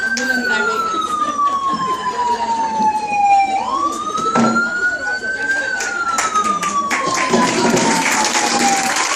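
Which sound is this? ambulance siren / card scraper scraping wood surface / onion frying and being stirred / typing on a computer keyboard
ambulance siren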